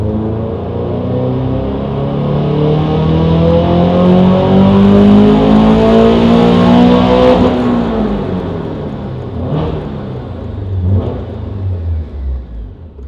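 A Toyota TRD 86 engine at wide open throttle on a dyno, its loud, close-up note climbing steadily in pitch for several seconds before dropping off, followed by a couple of sharp pops and a settling idle.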